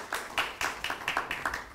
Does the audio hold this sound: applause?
yes